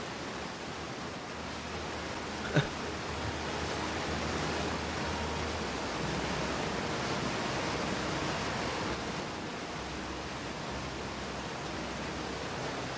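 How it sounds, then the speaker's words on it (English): Steady, even rush of a loud waterfall in the video game Outer Wilds, a continuous wash of noise heard alone with one brief sharp click early on. "Waterfall's a bit loud."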